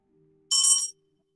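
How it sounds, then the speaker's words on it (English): A small bell rings once in a short bright burst at a magic show, close and clear over a faint low hum, then cuts off. "all I'm gonna do is just ring this bell"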